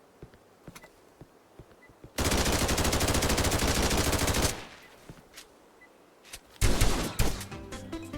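An AK-12 rifle in Operation One fires a long unbroken automatic burst of about two seconds, then a shorter loud burst after a pause, with scattered single clicks and footsteps between.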